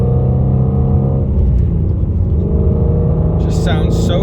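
A 2020 Ford Mustang GT350R engine rumbles loudly from up close as the car drives and revs, with a steady deep tone, and a voice is heard briefly toward the end.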